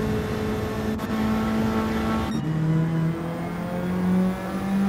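Nissan S15 Silvia race cars in Gran Turismo 7 pass by on the start-finish straight, with steady engine drone and shifting revving tones continuing throughout and no talk.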